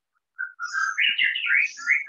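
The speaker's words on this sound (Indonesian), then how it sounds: "Suara burung" Small songbird chirps in a clear, close series of bright whistled notes and trills, continuous after a brief silence, with a quiet background.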